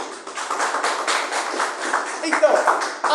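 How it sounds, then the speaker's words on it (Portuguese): A church congregation claps rhythmically in a fast, even beat, moderately loud and close, while a preacher keeps speaking over the clapping. "palmas para Jesus, vai, palmas para Jesus."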